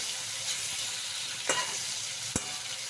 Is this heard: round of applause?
no